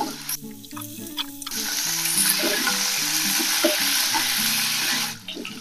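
Potatoes dropped into hot oil in a pan with dried red chilli and fenugreek, setting off a loud, sustained sizzle and crackle after a brief rattle, the frying hiss continuing evenly under a faint background melody.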